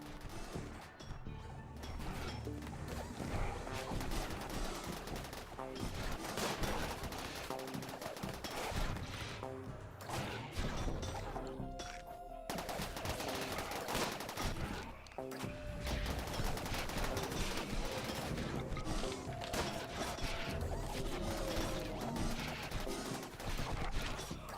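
Volleys of gunfire from colonists shooting at zombies in RimWorld, repeated bursts and smashing impacts that run densely and continuously across the whole stretch.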